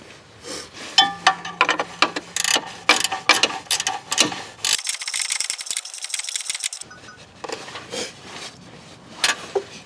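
A ratchet tightens the alternator belt tensioner bolt on a 2008 Hyundai Elantra, giving rapid clicking pawl bursts in quick runs with a long steady ratcheting stretch in the middle, close and clear.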